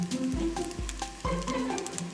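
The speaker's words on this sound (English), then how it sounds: "Still sizzling right here in the pot." A Korean rice dish sizzles steadily in a hot pot, a close, continuous crackling hiss with soft repeated bumps of stirring or scraping underneath.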